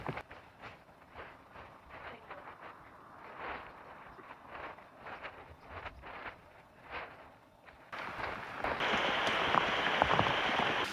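Rain falls steadily on an off-grid island, a soft patter with scattered drips that grows noticeably louder and denser toward the end.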